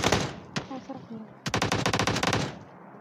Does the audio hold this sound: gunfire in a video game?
yes